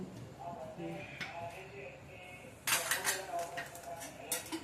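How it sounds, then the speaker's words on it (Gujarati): Metal clanks and scrapes as a pan is set down on a stovetop, with a few sharp clatters of cookware following, fairly close by. "હવે આપણે એની માથે કડાઈ મૂકીશું"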